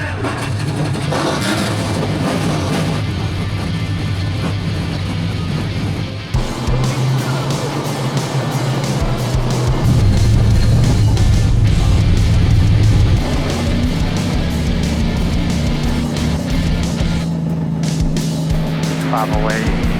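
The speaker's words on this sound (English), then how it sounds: "Driver, start your engine." Stock race cars on a short oval at the Snowball Derby idle and rev together in a loud, continuous engine drone, rising in pitch midway as the field fires up, with a voice talking over the roar.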